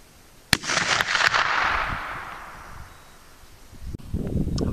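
A single sharp, loud report from a 45-70 rifle firing a 500-grain cast bullet, then a long rushing decay with wind noise, and a second fainter pop near the end, all outdoors.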